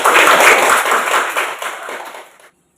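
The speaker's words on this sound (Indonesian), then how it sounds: "Tepuk tangan untuk itu" Students in an Indonesian classroom applaud together in a short, dense burst that is fairly loud at first, thins out, and then stops abruptly.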